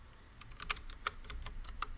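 Rapid keystrokes on a computer keyboard while Java code is typed, a quick irregular run of crisp clicks with a few sharper key hits, close and alone over a faint background hum.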